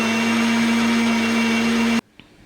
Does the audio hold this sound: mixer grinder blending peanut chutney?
yes